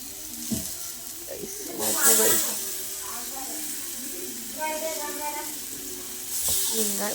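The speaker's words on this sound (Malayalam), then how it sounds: "ഒരു പാൻ എടുത്ത് അടുപ്പത്ത് വെക്കുക, അതിനകത്തോട്ട് ഇച്ചിരി വെളിച്ചെണ്ണ ഒഴിച്ചു കൊടുക്കുക." Food shallow-fries in coconut oil in a pan on the stove, a constant loud sizzling hiss with brief spattering swells, while a voice speaks over the cooking.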